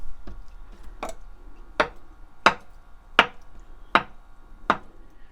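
A knife chops tofu on a cutting board in seven crisp, evenly spaced strokes, each a sharp close knock against a quiet background.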